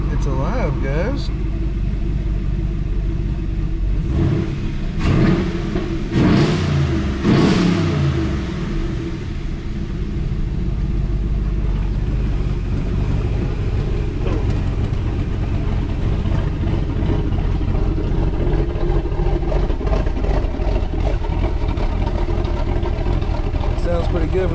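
A car engine, set in 4-cylinder mode with its intake not fully fitted, fires up for the first time and runs with a low steady rumble, rising in a few revs near the middle, while people talk over it.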